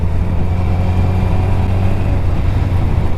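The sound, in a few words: motorcycle engine revving under a bridge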